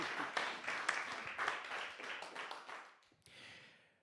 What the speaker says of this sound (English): So big round of applause please for Shimon Lightgeb.